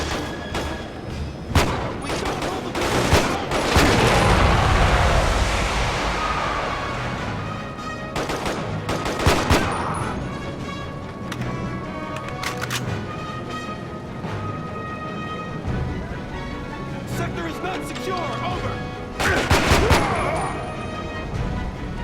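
TND-16 firing in single-shot mode in Quantum of Solace at Miami Airport, sharp loud shots in separate bursts and clusters, with echoing booms and other gunfire between them.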